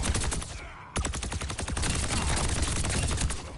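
Overwatch 2 gunfire hammers out in fast, even, rapid-fire shots. The burst pauses for a moment, then starts again and keeps going steadily, loud and close, with no talking.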